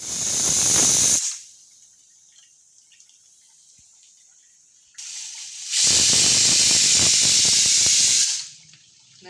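A pressure cooker vents steam in two loud, close bursts of harsh hissing, a short one and then a longer one lasting about three seconds, separated by a quiet pause.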